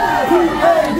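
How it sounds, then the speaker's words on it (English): Concert crowd at a rock band's reunion show cheering and shouting in a brief, loud burst of mixed voices, with whoops rising above the roar. "A round of applause"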